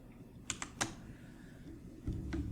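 Computer keyboard keys clicked for a shortcut, three quick sharp taps close together, then a brief pause and a soft final key press over quiet room noise.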